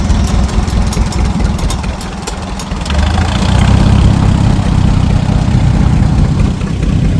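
An antique Oliver Super 66 tractor idles at an antique tractor show with a close, steady low rumble that swells and grows fuller partway through, and no one talks.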